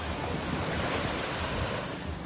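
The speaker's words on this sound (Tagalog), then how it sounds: "Lakas ng alon!" Strong sea waves roll and crash at a beach resort in San Felipe, Zambales, a steady, dense roar of surf mixed with wind noise buffeting the microphone, loud and continuous with no voices.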